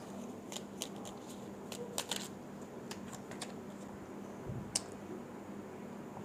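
Tarot cards are shuffled and drawn, with soft flicks, riffles and sharp snaps of card stock, quiet and close, with no voices.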